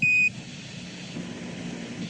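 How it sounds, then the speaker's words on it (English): An Apollo 11 lunar module 1201 program alarm sounds as a steady high electronic tone lasting about a quarter second at the start, then gives way to a low radio hiss and rumble. "Roger, 1201 alarm."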